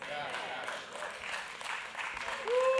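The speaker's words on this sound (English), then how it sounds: "Now that clap is pretty weak." Congregation clapping in a church service, a steady wash of applause from many hands filling the room at moderate loudness and rising slightly toward the end.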